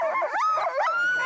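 A malamute sled dog close by gives a quick run of whining, yelping barks, shaped like a howl and rising and falling in pitch.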